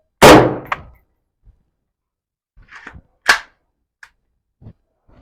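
A single loud, sharp gunshot from ballistic test firing with a quick decay, followed by a few faint clinks and thuds in the otherwise quiet space.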